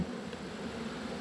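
Honeybees buzz at an open hive during feeding, a close, steady insect drone at low volume with no voices over it.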